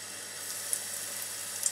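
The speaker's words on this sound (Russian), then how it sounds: "будем жарить. Наливаю масло." Turkey nuggets frying in oil in a home kitchen pan, a steady soft hiss of sizzling throughout, faint and even with a couple of tiny pops, no talking.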